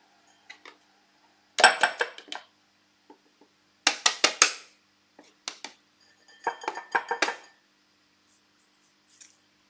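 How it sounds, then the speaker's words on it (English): Edible glitter pushed and ground by hand through a metal sieve for cake decorating, giving several short bursts of scraping, gritty rattling separated by quiet gaps, close and fairly loud, with no talking. "I'm what I call manually grinding it through the sieve."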